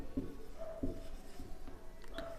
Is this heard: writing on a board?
yes